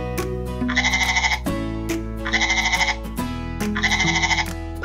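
A goat bleats three times in a row, each a loud, close, wavering cry with a trembling tremolo, used as a counting sound in a children's addition game.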